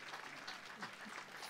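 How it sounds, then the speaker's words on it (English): Stadium crowd at a Dartmouth High School football game against Fairhaven applauds an injured player, a faint, distant, steady wash of clapping with a voice faintly audible underneath. "So he gets a big hand"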